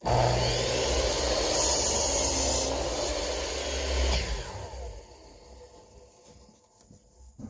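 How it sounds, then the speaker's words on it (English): A circular saw cuts through a 2x4 piece of lumber, a loud steady whining roar for about four seconds before it winds down and fades to quiet. "I'm going to run the circular saw, and I'm going to cut a 2x4 inch piece of lumber."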